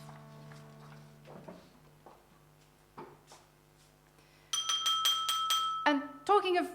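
A glass struck with a spoon rings out in a burst of bright, sustained clinks, several quick strikes in a row. Softer tonal taps and a low hum come before them.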